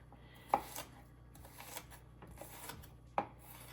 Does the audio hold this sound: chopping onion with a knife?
yes